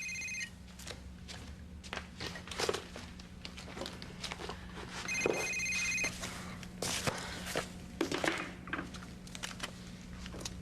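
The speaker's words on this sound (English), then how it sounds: "another important conversation interrupted by a cell phone" A cell phone rings in short repeated electronic bursts at moderate distance, with footsteps and light rustling between the rings in a quiet indoor room.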